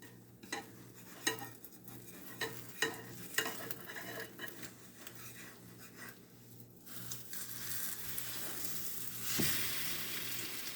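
French toast sizzles steadily in butter in a pan, with sharp clicks and scrapes of a utensil, growing into a louder, denser hiss toward the end.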